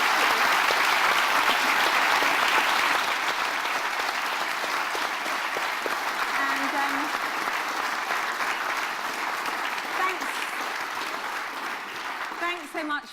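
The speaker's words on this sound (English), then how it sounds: "Let's give her a final round of applause." Live audience gives a final sustained round of applause for Lizzy Yarnold MBE, a dense steady wash of clapping that slowly tapers toward the end with a few faint voices.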